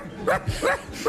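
A person imitates a dog barking with three short, close, voiced woof-like yelps in quick succession.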